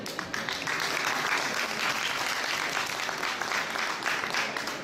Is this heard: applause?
yes